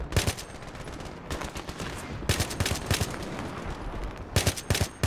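Battlefield 3 gunfire: repeated bursts of automatic rifle fire, loud and close, with clustered volleys across the whole stretch and a steady combat din between shots.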